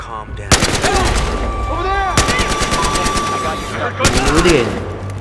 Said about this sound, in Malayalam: ആടെ മെഷീൻ ഗണ്ണൊക്കെ യൂസ് ചെയ്യുന്നേ